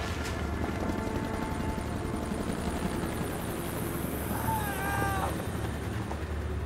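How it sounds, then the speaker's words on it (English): Steady, droning thrum of helicopter rotors overhead, loud and constant, with a faint warbling whine rising briefly partway through. "And the helicopter flew over. You could hear the rotors."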